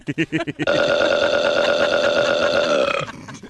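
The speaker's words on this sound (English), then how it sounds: "I wanted a 15-minute burp." A long, loud, droning burp sound effect played from a soundboard, preceded by a few short choppy vocal bursts and fading at the end.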